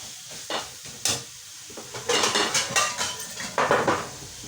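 Ground pork goes into a hot pan for ampalaya guisado, with a burst of sizzling and a series of rhythmic metal spatula scrapes and clanks against the pan as it is stirred, close and fairly loud.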